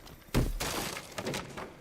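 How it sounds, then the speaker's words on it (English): A floor being smashed open in a video game, one sharp breaking crash followed by scattered rubble and debris clatter, brief and close. "Why is this dude just beating holes in the ground?"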